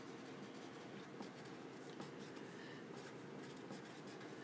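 A pen scratches across paper as notes are written by hand, a faint, steady scribbling with small taps and strokes and no talk.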